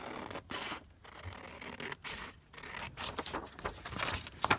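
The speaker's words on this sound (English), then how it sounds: "So let me just cut this one down." Scissors snip through a paper invoice in a quiet room, with several crisp cuts and rustling paper between them, close and fairly soft.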